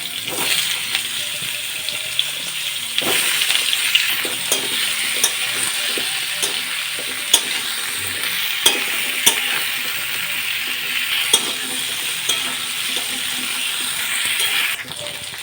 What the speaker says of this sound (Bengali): এবার কুমড়োগুলো এর মধ্যে দিয়ে দিচ্ছি কুমড়োগুলোকেও হালকা করে ভেজে নেব